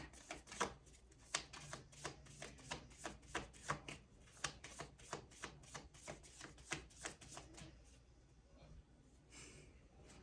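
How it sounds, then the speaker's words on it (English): Tarot cards shuffled by hand in a steady run of sharp, close riffling slaps and flicks, repeating at a quick rhythm for several seconds with a brief pause near the end. "Wheel of Fortune when I stop shuffling"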